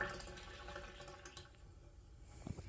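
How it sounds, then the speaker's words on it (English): A freshly washed Angelic Pretty Fantasy Theater gilet jumper skirt, heavy with water, drips as it hangs to dry: a faint, steady wet trickle and patter with no talking. "I am gonna let my dress drip dry for a few seconds on top of here"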